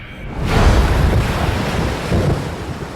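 Huge ocean waves surge and crash around a small boat at sea, a loud, continuous roar of churning water and wind buffeting the microphone, swelling after a brief quieter start.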